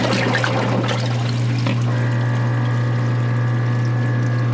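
Washing machine pumping drain water into a dry sump, a loud constant low pump hum under rushing, pouring water, with a steady tonal whine joining partway through.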